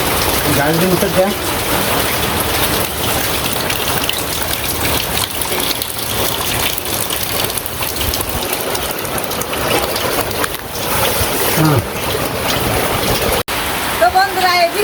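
Steady rain pours over a village in a continuous close wash of drops, joined by an engine-like hum and brief voices partly masked by the downpour.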